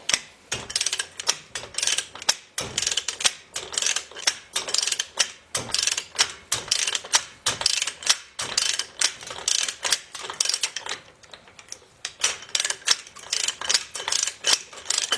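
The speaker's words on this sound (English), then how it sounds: "Now this first nut is going to get torqued." Socket wrench ratcheting a wheel bearing nut on a Willys CJ2A axle hub, a close, loud run of rapid clicking bursts in quick repeated strokes with short pauses between them.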